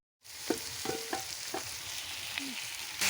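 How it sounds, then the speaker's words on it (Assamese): Meat frying in a pan with potato pieces, a steady close sizzle with a few soft stirring clinks and scrapes over it, no talking. "মোৰ মাংসখিনি ভাজা হৈ গৈছে"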